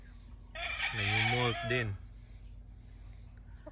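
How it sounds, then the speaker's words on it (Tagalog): An imported Kelso brood cock on a game farm in Bukidnon gives one loud, close crow lasting about a second, and someone speaks briefly nearby. "Brood cock. Silip natin yung mga brood cocks."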